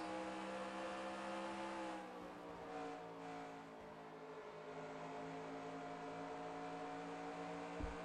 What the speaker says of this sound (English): I'll be quiet here for a little bit, let you listen to the cars even more